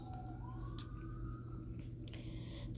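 An emergency vehicle siren wails from a distance, one steady tone slowly rising and holding, faint against a constant low background hum with no voices.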